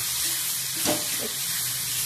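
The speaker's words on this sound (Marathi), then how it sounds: "आणि थोडं पाणी घालूयात आता शिजायला." Water hits a hot pan of dal and spices with a brief burst of hissing, then the steady sizzle carries on evenly.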